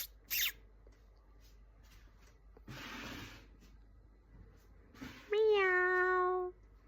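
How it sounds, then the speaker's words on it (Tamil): A cat gives one long, clear, drawn-out meow near the end, close and loud, after a few quiet rustles and brief noises. "இது என்ன சத்தம் கேட்டது? மியாவ்."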